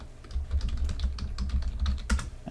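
Quick, light clicking of a computer keyboard as someone types a short entry, a steady patter of keystrokes close up ending with a sharper key press, no voices.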